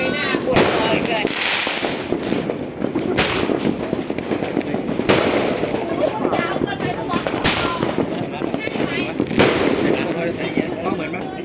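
Fireworks and firecrackers go off for the Thai New Year 2567 celebration in a dense, crackling barrage with several loud bangs standing out. People talk and exclaim throughout.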